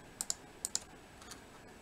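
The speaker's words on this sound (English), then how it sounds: "start clicking the down arrow until it's where I want to be" Computer keyboard down-arrow keys click in quick, faint pairs and single taps, close and alone in a quiet room.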